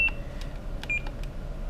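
A drone radio transmitter gives short electronic beeps, a few brief high tones spread across a quiet moment with a low steady hum underneath and no talking.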